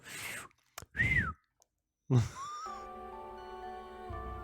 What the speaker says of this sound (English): It's just like the end of a whistle.